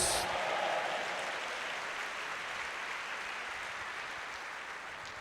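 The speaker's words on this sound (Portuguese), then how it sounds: "dando um aplauso a Jesus" A church congregation clapping during a family worship service, a broad wash of applause that starts strong and slowly fades over several seconds, with no speech on top.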